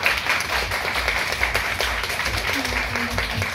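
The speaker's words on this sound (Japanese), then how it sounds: "改めて、ももちゃんとみれいちゃんに大きな拍手よろしくお願いします。" Audience applause for Momo and Mirei at a Burlesque Tokyo talk event, a steady wash of many hands clapping at moderate volume throughout, with a faint voice briefly underneath.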